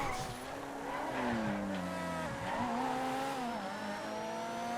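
A Monroe sports classic car races in the GTA FiveM game, its engine whining loudly and steadily with rising and falling pitch as it shifts and accelerates, joined by tire squeal throughout.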